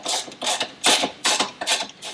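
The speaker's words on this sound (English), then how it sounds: "I'll tighten these back ones up fully first." Rapid ratcheting clicks from a wrench tightening bolts on a pannier rack for a Royal Enfield Himalayan motorcycle, about six quick close bursts in a steady rhythm, no talking.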